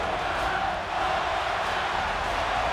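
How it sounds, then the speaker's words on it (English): Wrestling arena crowd roaring and cheering continuously after a knockout finish, a dense, loud, sustained wall of voices. "The crowd want blood, they want one more."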